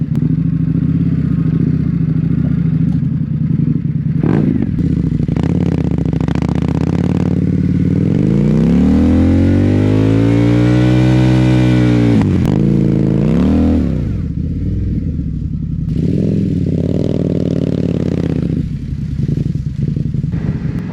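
A loud Indian Sport Scout Limited motorcycle engine runs close by throughout, revving up and down with rising and falling pitch and some mechanical clatter.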